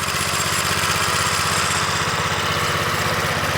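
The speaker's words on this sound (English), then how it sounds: "this little 2 horsepower engine is just badass. Runs perfect." A vintage 2 horsepower Briggs and Stratton engine on a Montgomery Ward lawn edger runs steadily at a constant, buzzing putter, loud and close, with no voices.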